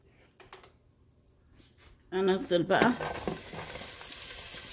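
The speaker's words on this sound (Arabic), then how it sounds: "انزل كل البصل، بس هقلبه تقلبتين وهنزل عليه بالفلفل الرومي" Chopped onions hit hot oil in a pan, breaking into a loud sizzle about halfway through after a quiet start, then settling into a steady frying hiss.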